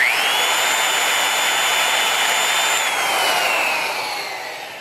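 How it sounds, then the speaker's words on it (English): A valve seat grinder turns a stone against a cylinder head valve seat, giving a steady, loud, high-pitched whine with a gritty rasp for about five seconds, easing off toward the end. "So I'm going to grind a little away here."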